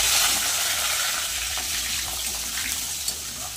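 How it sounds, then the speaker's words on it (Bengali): Chopped potatoes fry in hot oil with whole cardamom, cumin seeds and bay leaves, giving a close, steady hissing sizzle that fades slightly over time, with one small pop near the end. "আলুগুলো একটু ভেজে নেব।"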